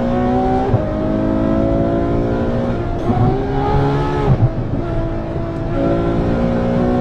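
A Ferrari F12's engine roars close by, holding a loud, sustained growl that climbs and dips in pitch as the revs rise and settle, with brief shifts between gears.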